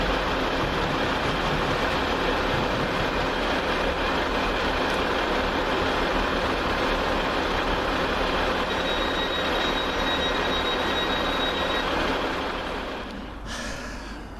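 Trains 185133 and 185122, running together, pass through Guide Bridge railway station at speed, a loud, continuous rumbling roar filling the whole stretch before easing off near the end, with no talk.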